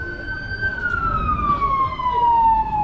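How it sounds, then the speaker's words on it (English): A fire brigade truck siren wails in a slow, descending sweep, loud and fairly close, over low street rumble on a one-way road in Morant Bay, St. Thomas, Jamaica. "we hear the fire brigade truck"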